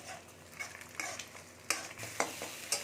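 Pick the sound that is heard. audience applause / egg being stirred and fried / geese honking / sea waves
egg being stirred and fried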